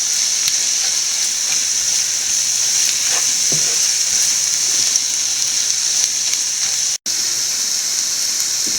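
Chili powder and turmeric sautéing in a pan for an egg roast make a loud, continuous sizzle and frying hiss, with occasional stirring scrapes and a brief cut near the end; no speech.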